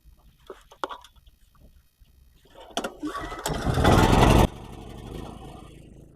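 A Grad 3/3.3 kW power generator engine is pulled and started: a few short clicks and rattles, then a rising loud mechanical burst that catches and settles into a steadier running hum, close by.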